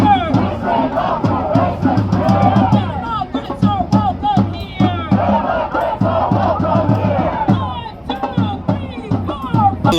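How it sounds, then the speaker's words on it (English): A large protest crowd at the No Kings 3 rally in Atlanta, many voices chanting and shouting together in rhythmic waves, loud and close, filling the street with continuous rallying cries. "We got a good crowd."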